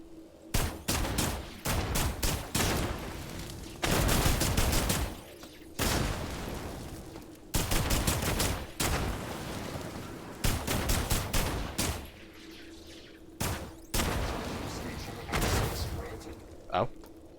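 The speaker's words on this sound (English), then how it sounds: "Let's use a Teflon rounds for this." Teflon rounds fire in repeated rapid bursts in the System Shock (2023) game, loud gunfire volleys separated by brief pauses, with a hum running underneath.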